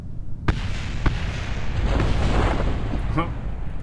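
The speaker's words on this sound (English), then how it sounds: "Ready for explosions?" A couple of sharp booms followed by a rumbling, crackling burst of explosions in Kerbal Space Program that fades out, fairly loud and close.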